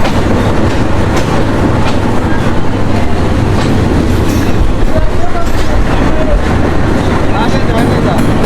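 The Rupsha Express train rumbles loudly and steadily at a station in Bangladesh, with rhythmic clickety-clack of wheels on rails and a continuous low roar throughout.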